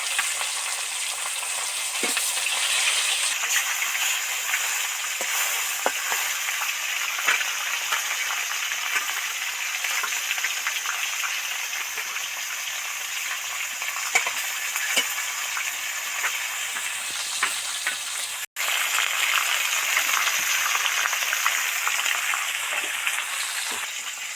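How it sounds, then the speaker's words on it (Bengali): Katla fish pieces, the head among them, fry in hot oil for a fish curry, giving a loud, continuous close sizzle with faint crackles and occasional clicks. "মাছ তো ওইদিকে ভাজতে থাকছি"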